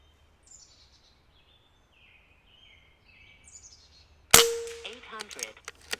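A Seneca Eagle Claw lever-action PCP air rifle fires one sharp, loud shot near the end, ringing into a metallic clang after a quiet stretch with faint chirping birds in the background.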